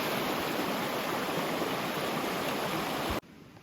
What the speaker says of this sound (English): I never had a camp spot I was so close to the creek like this.